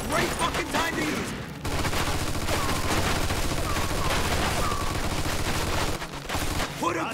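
Machine gun fire in Mafia II, a loud sustained rattle of rapid automatic bursts running almost continuously over several seconds amid battle noise, with voices shouting over it.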